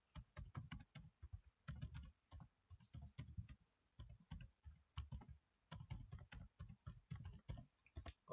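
Fast, irregular keystrokes clatter on a computer keyboard in steady bursts with brief pauses, close up and fairly quiet.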